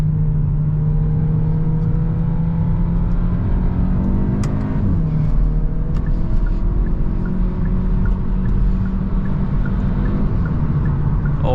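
A 2024 Hyundai Elantra N Line with a 1.6-liter turbocharged four-cylinder engine hums steadily from inside the cabin while driving, a low continuous drone with a brief rise in revs midway, no talk over it.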